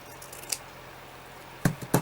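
Scissors cut a strip of gathered fabric: a couple of quick, close snips near the end after a quiet stretch.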